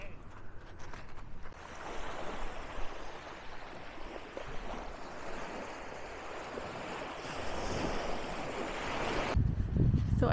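Sea waves wash onto the beach below the cliff at Highcliffe, a continuous surf roar with swells of louder breaking and wind buffeting the microphone, with no voices.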